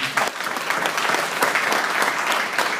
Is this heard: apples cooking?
no